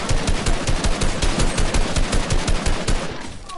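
Rapid automatic gunfire in Fortnite comes as a loud, continuous stream of close shots for over three seconds, then cuts off abruptly, with no voices.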